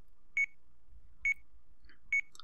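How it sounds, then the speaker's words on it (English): An in-game alarm in Sweet Fuse gives three short, evenly spaced electronic beeps, clean and fairly quiet over near silence. "Unsurprisingly, his alarm began to sound."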